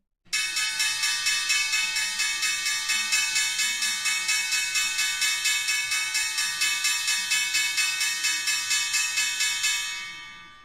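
A loud bell rings at the start of a live futures day-trading session, struck in a steady rapid series of bright metallic clangs for about ten seconds before fading out, with no talking over it.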